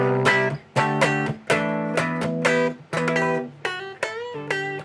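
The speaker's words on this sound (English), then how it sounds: "Obviously starts to distort a lot" Electric guitar played through a DIY practice amp at maximum gain, heavily distorted; about seven strummed chords ring out one after another, each fading before the next, loud and close with no talk.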